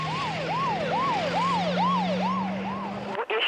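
An ambulance siren wails in a steady repeating rise-and-fall cycle, loud and close, over a low engine drone, cutting off abruptly near the end.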